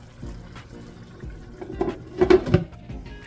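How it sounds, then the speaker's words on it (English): A lid set onto a pot of brown stewed chicken on a stove turned down to simmer, producing a couple of close, hollow metallic clanks and a brief rattle over a low background hum. "Put the top on it."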